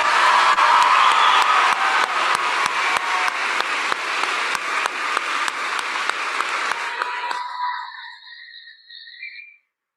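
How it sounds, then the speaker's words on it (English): A middle school promotion ceremony audience applauds and cheers for student participants, with dense clapping and scattered whoops that taper off and stop near the end, leaving a few faint whistle-like tones. "Please, let's have a big round of applause for our participants."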